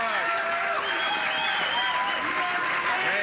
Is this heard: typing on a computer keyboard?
no